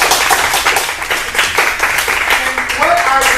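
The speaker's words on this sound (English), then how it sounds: "Let's give them a big round of applause" Audience applause at a community monthly mastermind meeting in a venue, a dense steady wash of many hands clapping together at close range, sustained throughout with no speech over it.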